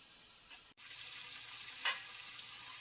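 Chicken fries in oil in a pan while being stirred, a steady close sizzle broken by a brief dropout and a couple of scraping stir strokes.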